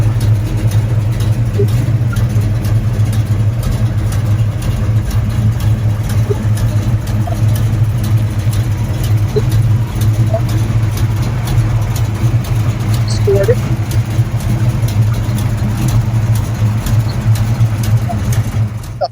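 A 1967 car built in Hamtramck, Michigan, with a 340 cubic inch engine, idles with a loud, steady, low rumble that carries on without a break throughout.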